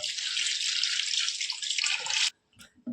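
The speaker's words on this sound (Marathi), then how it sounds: "डाळ घेतलेली आहे स्वच्छ धुवून घेऊ आपण डाळ" Water runs and splashes steadily for a couple of seconds while lentils are washed, then stops abruptly, followed by a few soft wet clinks and drips.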